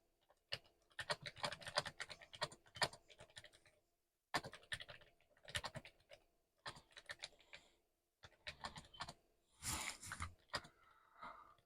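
Keys clatter on a Commodore Amiga computer keyboard in several quick bursts separated by short pauses, close and fairly quiet, with no voice over the typing.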